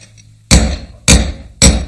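A hammer strikes silver at a forge three times, each blow sharp, loud and ringing briefly, spaced about half a second apart.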